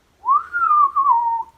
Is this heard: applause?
no